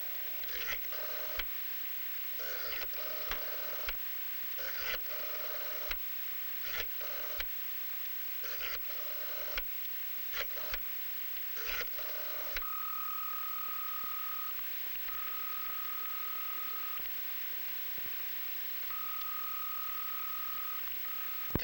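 An old 1960s telephone being dialed for a call, a series of short clicking pulses and tones repeating through the first half, then a steady ringing tone in short bursts, recorded faintly.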